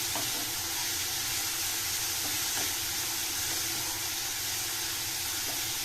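Onions fry in a pan for mutton pulao, giving a continuous close sizzle and hiss with faint stirring scrapes throughout, with no talking.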